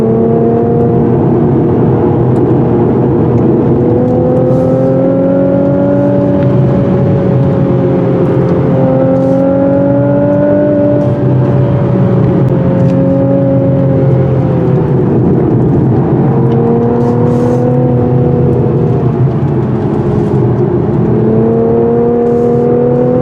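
A 2017 Infiniti Q50 or Lexus ES350 in sport mode climbs a steep, winding road, its engine holding a steady loud drone with pitch rising and falling through gear changes, heard alone without talk.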